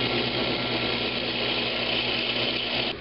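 A drill press bores through 3/4 inch wood stock with a 3/4 inch bit, a steady, loud, continuous whir and grinding hum that holds evenly throughout and cuts off sharply at the very end.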